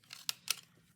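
Two sharp, crisp snips come close together as a tool rounds the corners of an index card. Each snip is short and quiet and stands alone against near silence.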